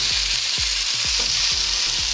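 Chili frying in a hot pan for Thai stir-fried basil, a loud steady sizzle with a series of rhythmic scraping stirs about every half second, no voices.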